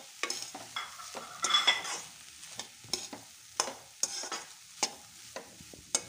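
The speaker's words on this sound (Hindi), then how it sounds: "अब इसमें हम उबले हुए आलूओं को डालेंगे और अच्छे से मिक्स करते हुए इसे हम पकाएंगे" A spoon scrapes and clacks around a pan in irregular strokes, mixing boiled potatoes with spices, while food sizzles faintly underneath, close and fairly quiet.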